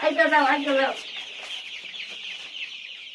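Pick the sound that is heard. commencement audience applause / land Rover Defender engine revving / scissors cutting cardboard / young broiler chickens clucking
young broiler chickens clucking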